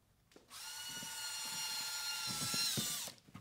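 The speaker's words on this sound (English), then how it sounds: "Why do you have a drill, Josh?" A power drill whirs steadily at high pitch for about two and a half seconds, spinning up and winding down, close and clear with faint knocks underneath and no talk.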